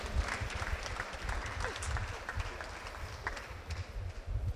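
Applause from an audience at an official event attended by a government minister, a dense wash of clapping heard continuously at moderate level with faint crowd murmur beneath.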